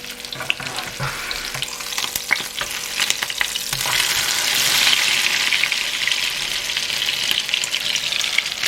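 Chicken pieces frying in butter in a pan, a continuous close sizzle with crackles and occasional clinks of stirring, growing louder and denser partway through.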